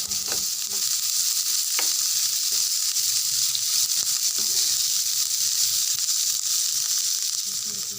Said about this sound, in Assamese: নাৰিকল, বাদাম, পিঁয়াজ, কেঁচা জলকীয়া, নহৰু, শুকান জলকীয়া এনেকৈ ভাজি ল'ম।